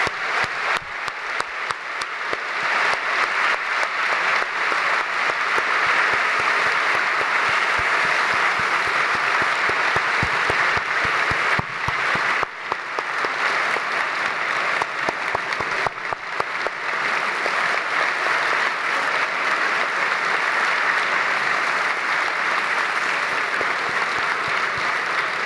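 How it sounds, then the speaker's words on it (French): An audience at a medical graduation ceremony applauds the teachers in a long, steady wave of clapping from many people, dense and even from start to finish. "Je propose qu'on applaudisse les enseignants, les maîtres de stage et l'ensemble des cliniciens et tout le monde."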